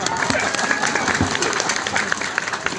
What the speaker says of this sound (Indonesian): tepuk tangan buat ibu-ibu